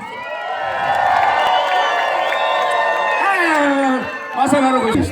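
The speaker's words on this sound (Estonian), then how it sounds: "Tehke nendele veel üks suur aplaus ja suur kisa." A festival crowd at a Seto Midsummer bonfire event cheers and shouts, with loud whoops and raised voices rising and swelling close by, while an amplified voice speaks over it.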